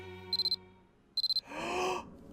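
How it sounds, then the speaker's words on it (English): Cell phone alarm ringing in the video game Corpse Party, two bursts of four rapid high electronic beeps over a low sustained tone, followed by a breathy gasping voice. "The alarm on my cell phone sounded as if an answer."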